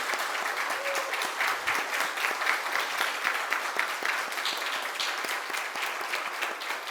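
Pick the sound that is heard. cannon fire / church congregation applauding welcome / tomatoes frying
church congregation applauding welcome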